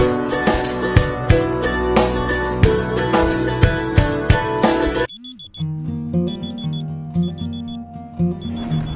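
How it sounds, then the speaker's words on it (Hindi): An alarm clock rings loudly in a rapid repeating pattern, then switches to a higher, sparser electronic beeping tone for the remaining seconds. "सुबह के 3 बजे मेरा पहला अलार्म बजा"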